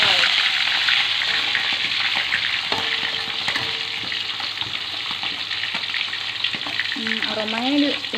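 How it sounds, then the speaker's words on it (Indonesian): Steady loud sizzling of chicken frying in a pan, a continuous crackling hiss with occasional clinks and a brief faint voice near the end. "goreng sisa ayam tadi."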